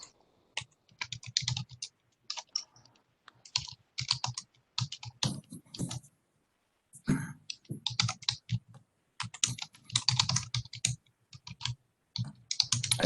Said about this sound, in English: I hear somebody's typing.